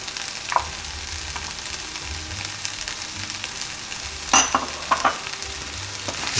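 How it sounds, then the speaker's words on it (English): Tomato sauce sautéing in a pan on low heat for Aussie chilli mud crab, a soft continuous sizzle broken by a few sharp spatula scrapes and clinks against the pan, close by with no talking. "Saute it a bit."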